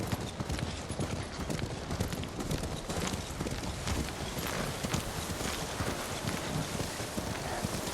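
Steady hoofbeats of a trotting horse with wind noise, continuous and fairly close, no talking, in the video game Ghost of Tsushima.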